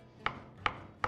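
Three evenly spaced knife strokes chop tomatoes finely on a cutting board in a kitchen, each a crisp, close thunk with quiet pauses between, and no talking.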